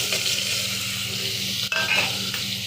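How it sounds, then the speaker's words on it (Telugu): Bottle gourd and tomato pieces dropped into a hot tempering with asafoetida sizzle loudly and steadily, with a brief stirring scrape near the end. "ఇంగువ యాడ్ చేసిన వెంటనే మనం కట్ చేసుకున్న ఆనపకాయ ముక్కలు, టమాటా ముక్కలు పోపులో వేస్తాం"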